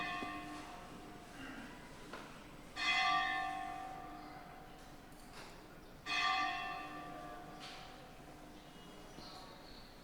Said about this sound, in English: as soon as the bell stops ringing